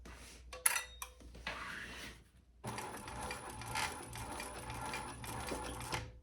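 A sewing machine stitching a tote bag starts with a few short, halting bursts, then runs steadily in a close, fast mechanical whir for several seconds.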